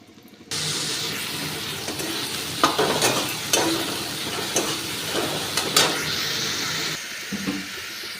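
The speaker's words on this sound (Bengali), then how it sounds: "কিছুটা পেঁয়াজ তেলের মধ্যে দিয়ে দিচ্ছি।" Sliced onion frying in hot oil sizzles steadily and continuously, with occasional scraping and stirring knocks from a utensil in the pan.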